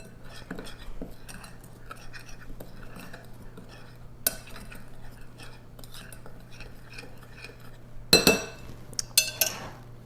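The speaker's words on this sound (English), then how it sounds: "I'll just give this a little stir, get it combined" A spoon stirs baking powder and salt in a bowl while brownie batter is made, giving soft continuous scraping with light clinks against the bowl, then a louder clatter of utensils near the end.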